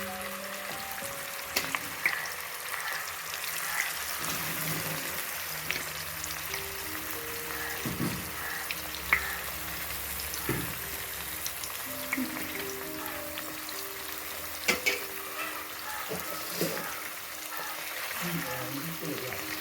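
Prawns frying in hot oil with onion, ginger and curry leaves, a steady close sizzle and crackle running throughout with occasional stirring clinks, while someone talks over it now and then.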